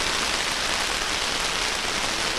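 Pouring rain falls on an outdoor athletics track during a school championship meet, a dense, steady hiss of downpour, loud and unbroken, with no voices over it.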